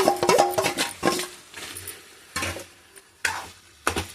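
Raw chicken goes into a hot pan for a simple chicken curry, sizzling and frying while a utensil scrapes and stirs in repeated bursts, loud and close with brief pauses between strokes.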